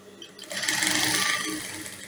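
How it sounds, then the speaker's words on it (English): A sewing machine runs close by, top stitching a fabric flounce, with a continuous whirring hum and rapid needle chatter that rises after a quiet start and holds steady. "i'll do a top stitch or not like this"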